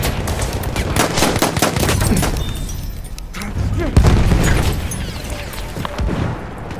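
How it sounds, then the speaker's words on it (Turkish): Grenade thrown in Battlefield 1 going off amid dense gunfire and machine-gun bursts, with one heavy boom standing out around the middle and speech mixed into the chaotic battle noise. "Bombayı fırlatıyorum."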